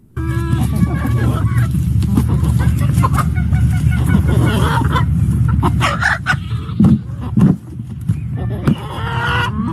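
A chicken perched in a horse's food bucket clucks and squawks loudly at close range, with honking, goose-like calls and other noise around it.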